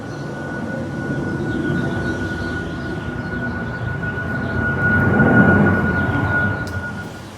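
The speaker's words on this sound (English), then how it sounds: "we're within the flight path here, the San Diego airport, so about every 30 seconds we have a takeoff from the airport, so it gets a little loud" A jet taking off from San Diego airport, overheard at an ADU construction site beneath the flight path: a steady, distant broadband roar that swells to a peak midway, then eases slightly, with no talk.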